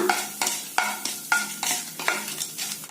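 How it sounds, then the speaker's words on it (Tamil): Urad dal, chana dal and three dried red chillies roasting in a tablespoon of oil, with a spoon scraping the pan in a steady rhythm of about six strokes over a soft sizzle, close and without speech. "உளுந்தம்பருப்பு, கடலைப்பருப்பு, 3 வரமிளகாய், இதைய வறுத்துக்கலாங்க பொன்னிறமா"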